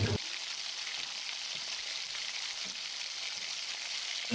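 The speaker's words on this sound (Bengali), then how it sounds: "আদা রসুন বাটা দিয়ে আবারও খুব ভালো করে ভেজে নেবো" Ginger garlic paste and onions frying in hot oil, a steady, fairly quiet broadband sizzle that continues evenly throughout with no talk.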